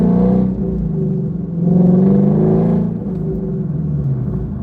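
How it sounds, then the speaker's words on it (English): A Ford Shelby GT350 V8 rumbles close and loud through rev-matched downshifts, the pitch swelling with a throttle blip then settling into a lower, steady drone. "I can rev match downshift now"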